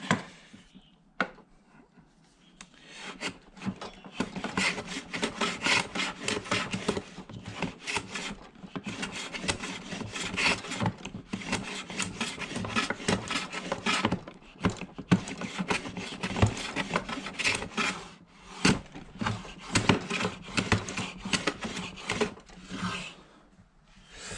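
A Carter No.7 jointer plane shaves fine end-grain curls from a wooden wrist rest, repeated rasping strokes in a steady back-and-forth rhythm, close and clear with short pauses between passes and no talking.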